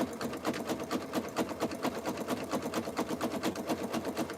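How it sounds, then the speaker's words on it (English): A sewing machine stitches strips of fabric for a jelly roll rug, feeding the material at its own pace with a fast, regular run of close mechanical stitch pulses. "We're just letting the machine pull the fabric in at its own pace."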